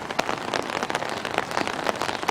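Steady rain pattering on surfaces at a zoo in Royal Oak, Michigan, a dense close-up patter of drops with no voices.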